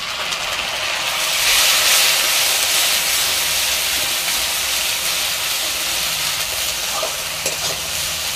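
Onion, garlic and ginger paste frying in hot oil, a loud steady sizzle and hiss with occasional stirring, close up and continuous, no voices.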